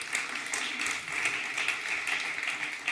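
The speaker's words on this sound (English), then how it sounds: "please, a big applause to Sylvain Morgaine" Soft, continuous applause from a conference audience at an innovation summit greeting a company vice president, an even patter of many hands heard from a distance with no talk.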